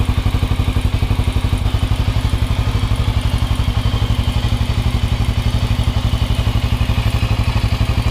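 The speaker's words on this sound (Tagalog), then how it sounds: "yan po ang tunog ng Cafe 400 with a stock pipe." A Motorstar Cafe 400 motorcycle with its stock exhaust pipe idles close by, giving a loud, steady, rapid thumping beat and a throaty rumble with no talking.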